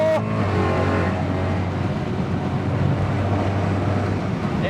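A BMW E92 M3 exhaust drones loudly from inside the cabin with a window cracked open for an underpass, a steady engine roar with wind rush throughout.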